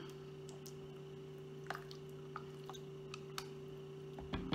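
Grape jelly spooned into a slow cooker for sweet meatballs gives soft, wet squishes and a few faint drips over a steady low electrical hum, close but quiet, with no talking.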